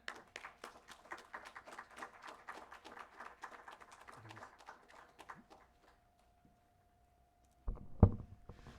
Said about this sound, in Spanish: vamos a agradecerle al ponente, un fuerte aplauso